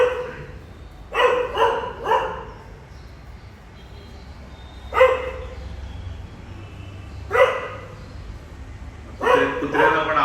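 A dog barks in short bursts, a double bark, then single barks spaced a few seconds apart, fairly close against a quiet room.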